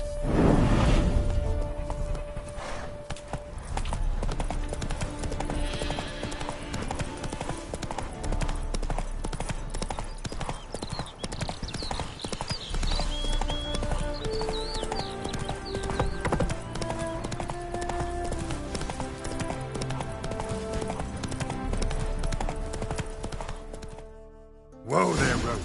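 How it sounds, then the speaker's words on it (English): Hooves of a horse clip-clop at a steady pace through The Witcher video game, a continuous rhythmic clatter under layered music and ambience, fading briefly near the end. "Whoa there, Roach"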